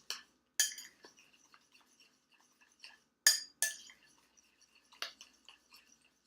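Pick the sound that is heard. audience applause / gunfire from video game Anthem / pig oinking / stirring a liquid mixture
stirring a liquid mixture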